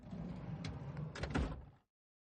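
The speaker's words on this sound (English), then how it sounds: "opened the passenger side door" A car's passenger-side door opens as a game sound effect: a soft latch click and rustling swing, fairly faint and brief, then silence.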